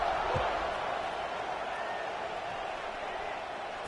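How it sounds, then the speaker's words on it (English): Steady, even crowd murmur fills a football stadium in the NCAA 26 video game on PS5, a constant broadband buzz after a score with a brief low thump early on, holding level for about four seconds. "this crowd is buzzing after that last score"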